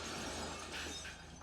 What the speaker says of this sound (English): and throws Loomis through a glass door